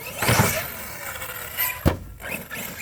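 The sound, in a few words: RC basher car doing a backflip off a ramp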